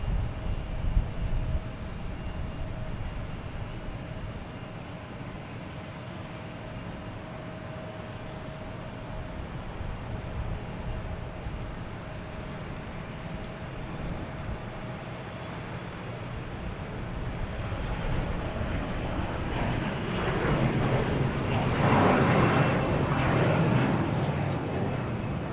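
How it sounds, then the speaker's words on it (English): A Delta Embraer E175 regional jet takes off at Boston Logan, its engine roar building steadily over a broad background rumble and swelling loudest toward the end. "Next taking off is Delta and E175"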